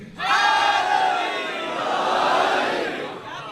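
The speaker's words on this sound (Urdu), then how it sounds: "یہ دو چھوٹے چھوٹے بچوں نے نعرے لگوائے نا" A large crowd at a Muharram religious gathering chants slogans in unison, led by two small children, a loud sustained roar of many voices that swells and holds for several seconds.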